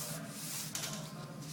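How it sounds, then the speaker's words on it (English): Hand sanding auto body panel with a hard block, cross-sanding at an angle: a steady, soft, continuous scraping rub close by, quiet and uninterrupted, with no talk. "when you're cross sanding, you just go at a 45-degree angle"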